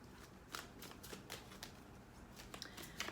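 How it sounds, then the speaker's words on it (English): Tarot cards being shuffled by hand make quiet, repeated riffling snaps and papery flutters in irregular bursts, close and soft, with no voice. "The shuffling is what takes the longest."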